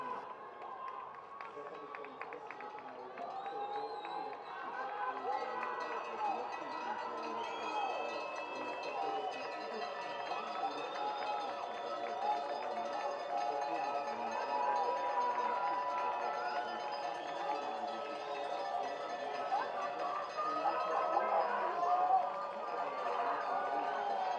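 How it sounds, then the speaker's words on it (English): A loud, busy grandstand crowd cheers rowing crews racing toward the finish at the Under 23 World Rowing Championships, a continuous roar of voices and shouts that swells slightly near the end. "A busy and loud grandstand are cheering these crews on"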